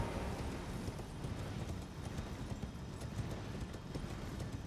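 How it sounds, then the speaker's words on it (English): Horse hooves clip-clop steadily in the Elden Ring video game, a quick, even trot of soft thuds over a light wind-like background. "we can actually get on the horse up here"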